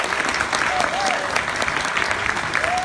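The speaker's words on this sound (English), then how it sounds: "Let's give them a round of applause." A crowd at a space-themed opening ceremony applauds four veteran NASA astronauts, a dense, steady wash of clapping with a few cheers, lasting a few seconds.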